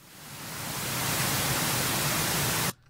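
Steady broadband hiss of pink noise from a signal generator, played for sound system tuning, fills the clip, swelling in during the first second and cutting off abruptly near the end.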